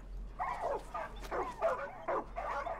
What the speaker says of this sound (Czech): Jo, tadyhle nějaký pes.